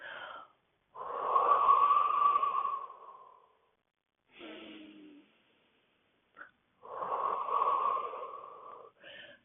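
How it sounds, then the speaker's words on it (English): Slow, deep breaths during a leg and hip stretching routine, heard close and fairly loud: a long drawn inhale, a softer one after a pause, then another long breath, with near-silence between them. "and take a deep breath in."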